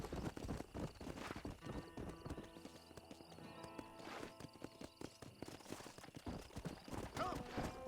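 Horse hooves clip-clop at a steady trot in the video game Red Dead Redemption, loud rhythmic hoofbeats over game music with a brief neigh.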